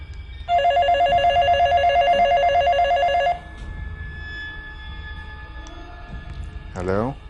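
A telephone rings in a room with a steady electronic trill that lasts about three seconds and then stops abruptly. Low room noise follows, and a short voice-like sound comes near the end.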